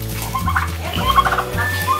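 Turkeys gobble in loud, close, repeated bursts, several overlapping calls crowding the short stretch with no talk over them.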